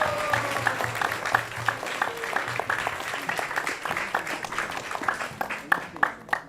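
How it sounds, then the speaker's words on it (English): An audience at a Krishna Katha gathering breaks into applause, a broad wash of clapping that rises and carries on with a few louder claps standing out near the end. "So let's give us or yourself a big round of applause for all of you."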